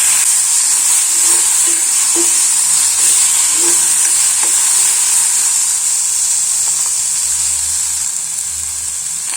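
Chickpeas and potatoes sizzle and fry in a pan while being stirred, a steady bright hiss with soft scraping knocks of the utensil, close and continuous throughout.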